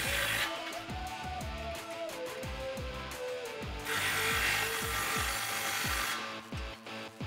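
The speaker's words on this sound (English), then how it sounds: "now you can grab your socket and tighten them down." A socket wrench ratchets rapidly while tightening the clamps on a Flowmaster FlowFX dual exhaust under a 2009-2021 Toyota Tundra 5.7L, a steady run of close, clicking strokes with a brief pause partway through.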